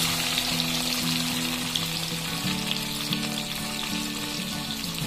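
Onions fry in oil and butter in a kadai for paneer bhurji, making a steady close sizzle with a low hum beneath, unbroken for about five seconds.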